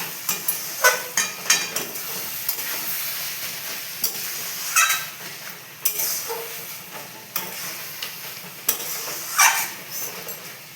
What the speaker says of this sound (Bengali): সবগুলোকে একসঙ্গে মিশিয়ে কষিয়ে নেব বেশ করে